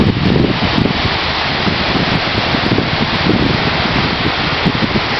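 Sea waves and wind on the beach at Rimini, a loud, steady roar of wind buffeting the microphone over the broad rush of surf, unbroken throughout.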